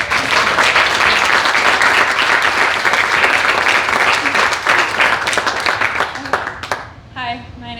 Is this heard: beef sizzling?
no